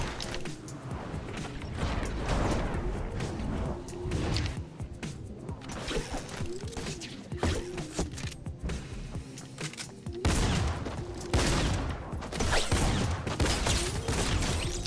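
Tactical shotgun blasts in a video game, a dense run of loud booming shots and mechanical pump racking that carries through the whole stretch with barely a pause.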